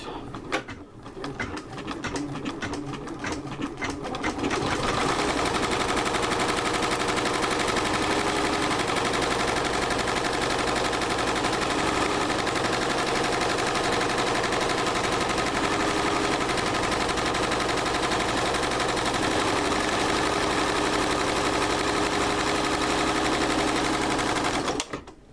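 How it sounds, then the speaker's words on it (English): An embroidery machine stitching vinyl held in a Durkee hat hoop, starting with a few quiet clicks, then settling into a loud, fast, steady needle chatter for about twenty seconds. "As it's sewing, you can see that it's not bouncing around."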